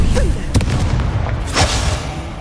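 A Confringo blasting spell explodes in a Harry Potter video game, a loud booming burst with crackling pops over a thick, rumbling background, close and sustained.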